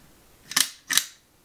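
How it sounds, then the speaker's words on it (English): A Kodak Bakelite point-and-shoot camera fires its shutter twice, two crisp, close mechanical clicks about half a second apart in a quiet room. "and the shutter fires."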